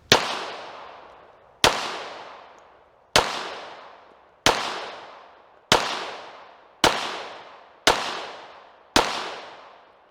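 Eight loud, sharp pistol shots from a Tisas Raider during ammunition testing, spaced evenly about every second and a quarter, each crack followed by a short decaying echo, with no talking.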